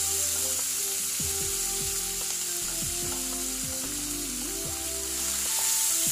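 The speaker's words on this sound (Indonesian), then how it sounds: "langsung aja ini saya masukkan cabai merah, bawang putih, sama tomat ya yang sudah saya blender" Blended red chili, garlic and tomato hitting hot oil with golden-browned shallots for sambal: a loud, steady sizzle throughout, with repeated scraping and stirring strokes of a utensil in the pan and no talking.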